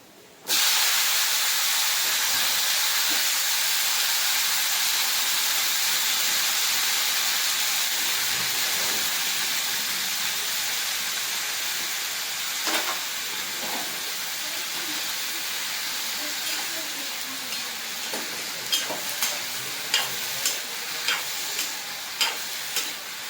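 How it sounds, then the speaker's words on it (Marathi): Sliced brinjal drops into a hot frying pan, setting off a loud, steady hiss and sizzle that eases a little later on, with scattered clicks and taps from stirring near the end. "मी इथे सात ते आठ वांगे अशा प्रकारे कट करून घेतलेले आहे ते टाकूया"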